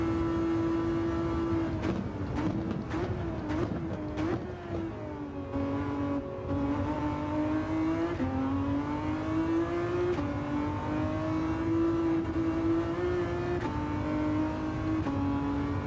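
In Gran Turismo 7, the Ferrari FXX K race car's engine wails at high revs and climbs and dips as the car shifts and works through corners, with several sharp shift blips early on. The sound is continuous and fairly even in level.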